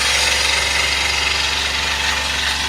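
A scroll saw with a straight blade cutting through wood, giving a steady, loud motorized buzz with a low hum that runs without pause.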